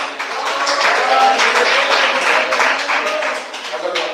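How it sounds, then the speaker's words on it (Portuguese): Audience applause at a church service, a steady wash of clapping sustained for about four seconds at fairly loud level. "Debate mais palmas."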